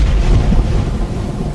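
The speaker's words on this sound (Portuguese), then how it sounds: "Ele fez cair uma pesada chuva de pedra sobre todo o Egito, e a chuva e os raios caíram sem parar." A heavy storm of hail and lightning over Egypt, heard as a dense, loud low rumble of thunder with steady rain-like noise and no voices.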